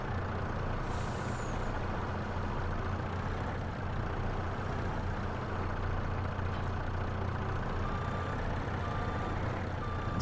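A truck backs up to drop off a stump grinder in a wintry Griffin, Indiana setting, its steady reversing beeps repeating over a constant engine drone, with air-brake hiss at moments.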